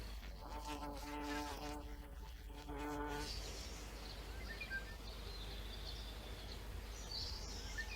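A bee buzzes near a wildflower, a faint, thin, wavering drone in an outdoor setting, with a louder harmonic insect or bird call briefly in the first seconds.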